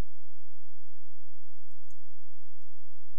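Keys click in a quick, steady run on a computer keyboard while Java code is typed, close and alone with no talking.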